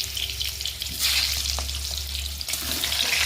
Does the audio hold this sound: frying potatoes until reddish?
yes